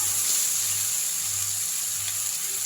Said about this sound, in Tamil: நல்லா வதக்கி விட்ருங்க தீயை குறைச்சி வச்சுருங்க